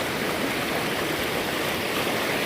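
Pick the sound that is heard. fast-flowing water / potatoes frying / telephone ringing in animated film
fast-flowing water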